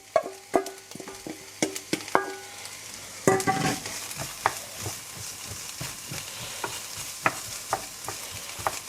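Onion and garlic mix frying in a Dutch oven, with a steady low sizzle broken by sharp clanks and scrapes of a utensil stirring against the pot, close and moderately loud.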